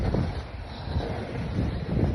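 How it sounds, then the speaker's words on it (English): Strong wind buffets the microphone in a maple forest during sap-tapping season, a loud, continuous low rumble and roar that swells and eases in gusts. "Yeah, it's windy."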